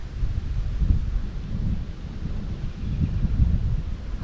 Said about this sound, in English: Ooh, that wind is still cranking.